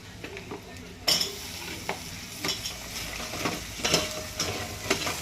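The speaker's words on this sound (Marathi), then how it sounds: "त्याच्यात आपल्या या खेकडी परतवूया" Crabs are stir-fried in oil with red chili powder and turmeric. A close, steady sizzle runs under repeated spoon scrapes and clinks against the pan at an uneven rhythm, with no talking.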